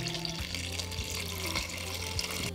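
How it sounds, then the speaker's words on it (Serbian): Cold water runs into a cooking pot holding washed eggs and hibiscus tea, a steady splashing stream with a rising filling tone, close and fairly quiet, with no talk. "I sipat ću 800 ml"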